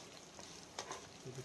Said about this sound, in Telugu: అవి దోరగా వేపేసుకుని ఆయిల్ రాకుండా